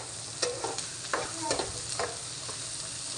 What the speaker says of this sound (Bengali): শুকনা মরিচগুলোও ভেজে নিচ্ছি